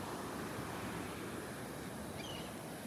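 Ocean surf at Tigertail Beach, a constant loud broadband roar of breaking waves mixed with wind rush against the microphone, with no voices.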